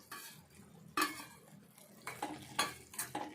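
Grated coconut is mixed into sugar syrup in a pan, heard as several quiet, distinct scraping and clinking spoon strokes with faint sizzling between them.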